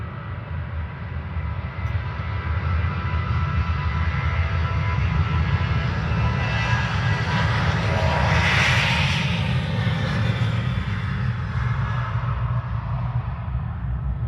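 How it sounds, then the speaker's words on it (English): An airplane takes off into the wind at Tweed-New Haven Airport, its engine roar loud and steady throughout, swelling to a peak partway through as it passes close, with no voices. "Now we'll turn your attention to the airplane taking off,"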